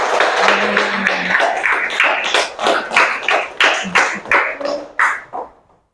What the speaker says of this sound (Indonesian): Coba beri tepuk tangannya untuk kelompok B yang sudah mempresentasikan